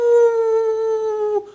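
A man imitates a dog's howl with his voice, one long sustained, steady tone held for over a second that breaks off abruptly, loud and close.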